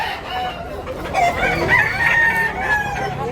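Roosters crow at a chicken market in Tabunok, Cebu, with one loud, close, drawn-out crow rising over clucking fowl and faint background bustle.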